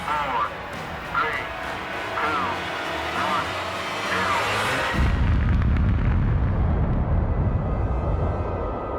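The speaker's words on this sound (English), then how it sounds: "It would be the first atomic bomb to ever explode in peacetime." Archival recording of the atomic bomb explosion at Bikini Atoll, a sudden deep, loud rumbling roar that follows a countdown voice and sustains as a heavy, noisy low blast to the end.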